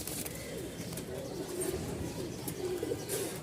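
Soft, low cooing of Rajshahi Giribaz pigeons repeats through the clip over steady background noise, fairly close, with no talking.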